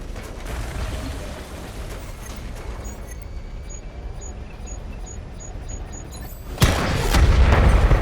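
A Cobra tank is destroyed in Batman: Arkham Knight, with a heavy rumbling explosion bursting out loudly near the end over a continuous booming wash of battle noise and gunfire.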